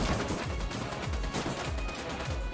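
Gunfire in Ghost Recon Wildlands sounds as a dense, continuous fusillade of rapid, overlapping shots that stays loud and close throughout.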